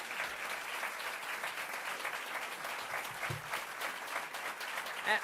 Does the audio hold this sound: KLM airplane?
no